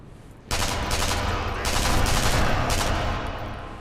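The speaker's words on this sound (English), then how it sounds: "You may have noticed that I fire in small bursts." Submachine gun fire in the video game Sniper Elite V2 erupts abruptly and continues as dense, loud rapid bursts for several seconds, rising and easing in short pulses, with no talking.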